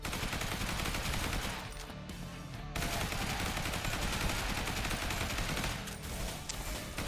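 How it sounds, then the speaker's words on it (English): Sustained assault rifle fire from the Zombie Survivors video game, a dense, continuous rattle of rapid shots that runs loud and steady nearly throughout, with a brief drop in intensity partway through. "Yeah, we'll upgrade the assault rifle."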